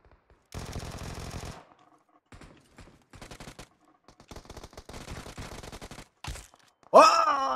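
Bursts of automatic gunfire from the mobile shooter game PUBG Mobile, with a long rapid volley followed by shorter scattered shots and a brief loud noise at the end.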